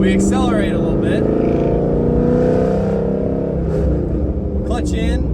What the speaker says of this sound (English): So now we're rolling in first gear. We accelerate a little bit.